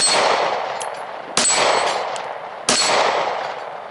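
A Glock GS17 handgun with a PDW adapter fires training ammunition: three loud, sharp shots about 1.3 seconds apart, each followed by a long ringing decay, and no talking.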